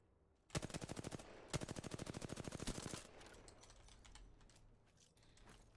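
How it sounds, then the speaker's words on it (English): Apex Legends gunfire: two loud, rapid bursts of automatic weapon fire with evenly spaced shots, close up, then quieter distant shooting and game ambience. "The enemies are shooting at me."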